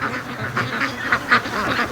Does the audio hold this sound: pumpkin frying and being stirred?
no